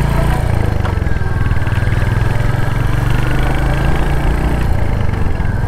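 A Royal Enfield-style Hunter motorcycle fitted with a new iridium spark plug runs steadily and loudly close by, its low engine drone continuous throughout with no talk, during a short group ride with friends.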